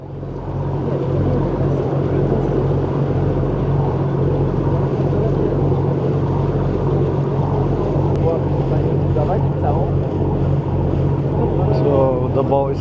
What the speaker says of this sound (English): So the boat is heading back now.